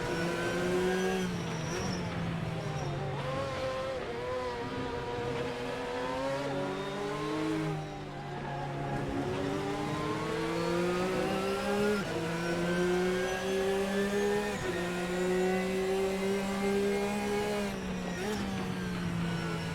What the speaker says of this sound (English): that's exterior sound of the Ferrari